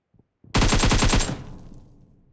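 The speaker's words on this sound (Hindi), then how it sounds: "गोलियां कौन चला गोलियां किसने चलाया आपने" Automatic gunfire in the mobile battle-royale game PUBG, a loud close burst of rapid shots lasting just under a second, followed by a fading echo tail.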